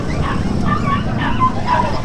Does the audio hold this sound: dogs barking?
yes